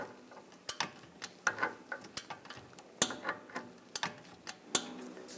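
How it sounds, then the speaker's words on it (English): Torque wrench tightening the rear hub bolts on a 2009-2017 Volkswagen Tiguan during a wheel bearing and hub replacement: a run of sharp, close ratcheting ticks and clicks in irregular bursts, with no talking. "Then we'll torque these bolts to 66 foot-pounds and then an additional 90 degrees."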